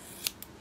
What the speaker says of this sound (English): I'm gonna start trimming it a bit like a pom-pom